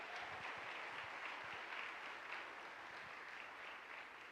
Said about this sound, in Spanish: ¿Le puede dar un fuerte aplauso a Dios?